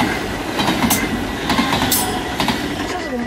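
A train runs along the rails at Roermond, a loud, steady rumble with rhythmic clickety-clack from the wheels and brief squeals, close by and continuous throughout.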